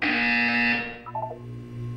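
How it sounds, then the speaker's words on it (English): A loud electronic buzzer from the video game Portal 2 sounds alone, a harsh sustained tone lasting under a second that cuts off into lower fading tones. "When you hear the buzzer, look down at the floor."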